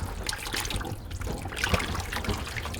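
Water trickles steadily into a flooding excavation pit on a construction dig, a close, continuous wet dribble and light splashing that persists throughout.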